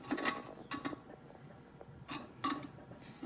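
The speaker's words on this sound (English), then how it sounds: "grab your crescent wrench and tighten up" A crescent wrench tightens the clamp of a stage light hung on a pipe, giving a few faint metallic clicks and scrapes in short clusters.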